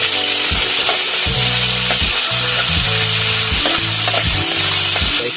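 Garlic and onion frying in a pan outdoors in a forest, a steady dense sizzle that holds loud throughout, with low tonal thumps and rumbles under it and no talk.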